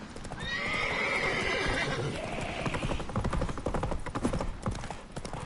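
Geralt's horse Roach in The Witcher 3 whinnies loudly, then gallops hard with rapid, driving hoofbeats, close and loud.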